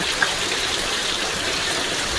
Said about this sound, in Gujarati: ખૂબ એટલે ઘણો વરસાદ ચાલુ થઈ ગયો છે.